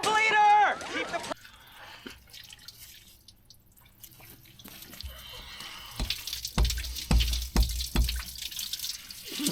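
On a 1977 Western Star wrecker, coolant leaks from a faulty water pump, with faint drips and then a quicker run of close, distinct drops, after a voice at the start.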